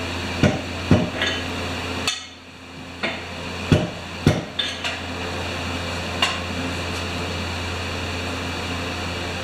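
Metal is struck on an anvil in a workshop of hand tools that need no fuel, a handful of sharp, ringing blows scattered irregularly over a steady background hum, fairly close but moderate in level.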